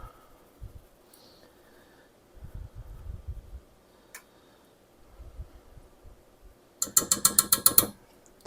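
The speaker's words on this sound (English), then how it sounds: "I'm just putting it through this little sifter" A hand-crank sifter sifts cocoa powder in a home kitchen. Soft low rustling comes first, then a quick run of crisp ratcheting clicks close by near the end.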